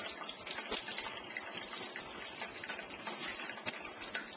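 Rinse water drains from washed barley in a kitchen, a quiet, steady trickling and splashing with small irregular spatters, close and continuous without talk.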